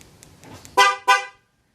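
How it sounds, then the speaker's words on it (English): Two short, loud honks from a Ford F150 horn sounding as the factory alarm is armed with something left open, close by, followed by silence. "it'll give you 2 honks saying something's open"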